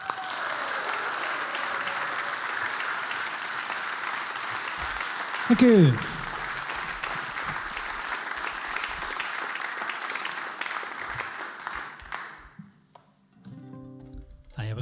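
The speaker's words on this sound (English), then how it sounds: "So please give them a big round of applause." A crowd applauds at a live folk music session, broad steady clapping running for about twelve seconds with a brief whistle or cheer midway, then fading out as a voice speaks briefly over it and instruments are faintly handled.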